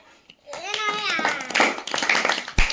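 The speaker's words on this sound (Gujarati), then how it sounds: "તાળી તો પાડો ભાઈ" Schoolchildren burst into scattered clapping during a classroom magic game, a quick patter of small hands that follows a drawn-out voice and overlaps with children's chatter near the mic.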